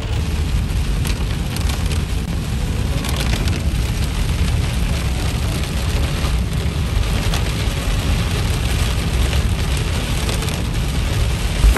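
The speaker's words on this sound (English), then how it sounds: "It's raining at the moment." Rain hisses steadily over a car on the road to Killaloe, a dense, constant wash of noise mixed with road rumble, loud and unbroken with no talk.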